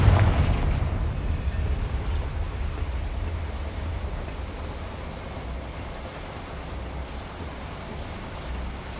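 A Confringo blasting spell explodes in Hogwarts Legacy on Xbox. One loud blast hits at the start, then a heavy rumble slowly fades over several seconds.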